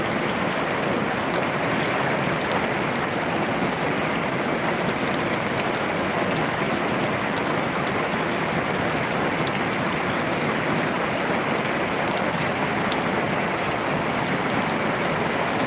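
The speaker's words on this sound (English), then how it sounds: "Now the rain is coming down. Now it's legit heavy." Heavy thunderstorm rain in Wisconsin pours down steadily, a dense, even hiss of drops hitting surfaces close by that carries on unbroken with no voices.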